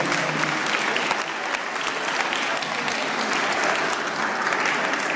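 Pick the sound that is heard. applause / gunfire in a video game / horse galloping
applause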